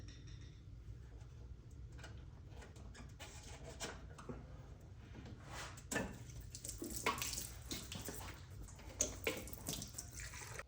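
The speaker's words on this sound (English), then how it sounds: "So we're gonna go ahead and drain the gas tank." Gasoline draining from a Harley-Davidson 96-inch Twin Cam motorcycle gas tank, a soft trickling, splashing flow with occasional louder gurgles, quiet and close with no talk.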